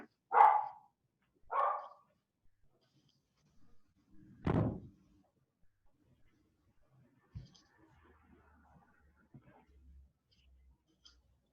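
A dog barks in a few sharp bursts near the start of a quiet indoor classroom setting, followed by a heavy thump like a door shutting, then faint scattered noises.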